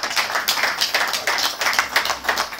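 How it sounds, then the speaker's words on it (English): Audience clapping at a Third World Solidarity 30th anniversary gathering, a close, rhythmic patter of hands, loud and alone with no talk. "please give yourself a big hand of clap"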